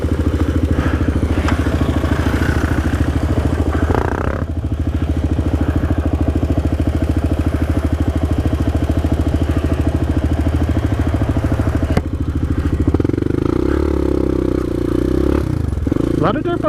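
Motorcycle with a clutch going bad runs continuously and loudly up close while riding, its engine droning and revving with shifts, and a rider talks over it.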